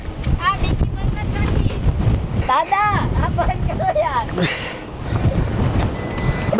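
Strong gusting wind on a bridge buffets the microphone with a loud, roaring rumble while people talk over it.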